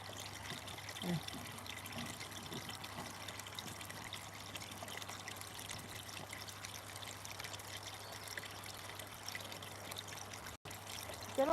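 Steady broadband rush of flowing water, like a distant waterfall, continuous and fairly soft throughout with a constant low hum beneath.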